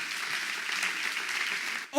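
Church congregation clapping during an evening service: a brief, fairly quiet burst of steady applause from a crowd, ending abruptly.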